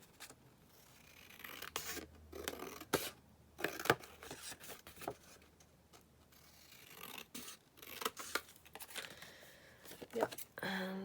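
Scissors make faint, intermittent snips and rustles while cutting paper for an envelope pocket booklet, with crinkling handling noise between cuts in a quiet room.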